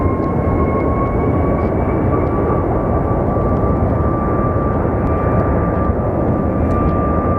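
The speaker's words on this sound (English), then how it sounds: "Dang, that Southwest is being tested. Like, it sounds so loud." Southwest jet airliner departing from Sky Harbor Airport, a loud, steady roar of engines with a sustained tonal whine over broadband rumble, continuous and dominant throughout, with no talking heard.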